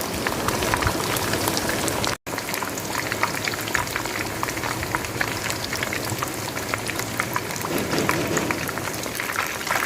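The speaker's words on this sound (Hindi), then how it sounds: "ہماری فش اچھے سے فرائی ہو گئی ہے" Lahori-style fish frying on low heat, a dense, even bubbling crackle like light rain that continues steadily up close, with a momentary dropout early on.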